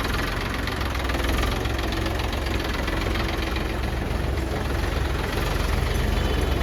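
An Eicher 480 tractor engine runs steadily, a continuous low rumbling idle with no voices.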